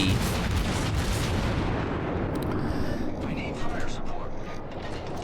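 Warship guns firing in World of Warships: a loud, dense, continuous rumble of booming naval artillery that dominates throughout, slowly easing off toward the end.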